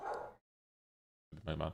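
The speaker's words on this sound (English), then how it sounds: "sorry about the dog in the background" A dog barks in the background of a soccer discussion, with two short, faint bursts of noise separated by a stretch of complete silence.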